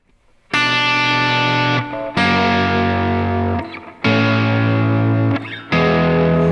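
Distorted electric guitar strikes the third of a chord four times, each ringing about a second before the next hit, loud and clear with no talking.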